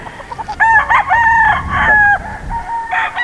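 A young gamefowl rooster, a stag, crows loudly and close by, giving one drawn-out crow in several sustained segments with a few short clucks around it.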